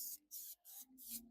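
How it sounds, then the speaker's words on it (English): A craft spray can of adhesive in a woodworking shop releases about five short, sharp hissing bursts in quick succession, close and fairly quiet, with brief gaps between them and no voices. "This is a craft spray."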